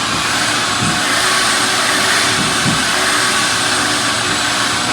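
A vacuum cleaner runs steadily close by, a constant broadband whine and rush that fills the whole stretch without pause, with a faint lower rumble underneath and no talking.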